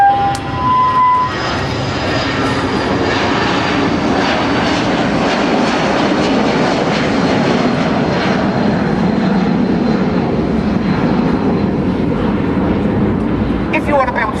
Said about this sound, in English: I'm going to wait for the plane.